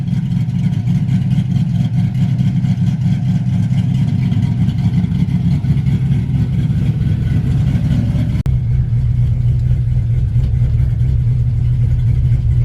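Loud, steady engine drone from an LS-swapped Chevy S10 pickup, held at a constant high roar close to the microphone, then dropping abruptly to a lower, deeper rumble near the end.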